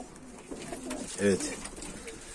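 Soft pigeon cooing nearby, a brief rolling coo in the middle with a quiet voice speaking.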